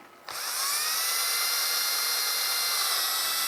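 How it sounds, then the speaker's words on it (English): A power drill spins up and drills steadily into a 1:10 scale RC car chassis during a build, a loud continuous high whine starting after a brief quiet moment and holding constant with no talking. "Once I got those rear screws out, grab my drill."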